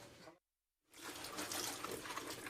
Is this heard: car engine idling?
no